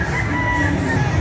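A gamefowl rooster crows loudly and close by at a gamefowl expo, one sustained call with a steady harmonic ring over a dense, noisy background of other birds and crowd.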